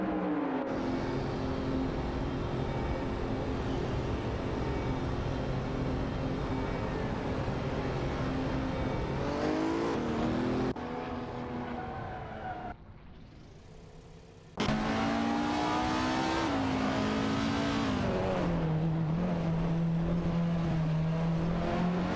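Race car engines whine steadily in an AI racing video game, with engine notes rising and falling as cars shift and overtake, a brief quieter drop midway, no voices.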